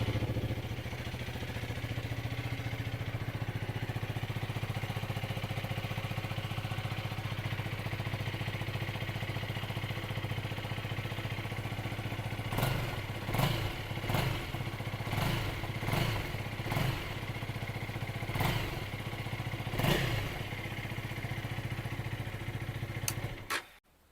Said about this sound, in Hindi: ऑन करने के बाद मैं आपको दिखाता हूँ इसका एग्जॉस्ट नोट कैसा है